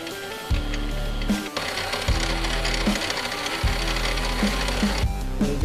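A drill bores a hole through a half-inch aluminum bar in a workshop. A steady loud whir runs throughout, broken by several brief dips and thumps as the bit bites and the piece shifts.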